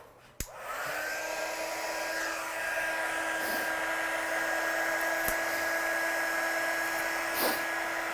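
A heat gun for melting embossing powder switches on with a click and settles into a steady, close, high whine and airy rush that holds unchanged for several seconds.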